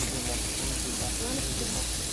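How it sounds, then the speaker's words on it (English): Duck meat sizzling in a hot cooking pot, a steady broadband hiss and crackle that fills the short moment at an even, close level. "that sizzling."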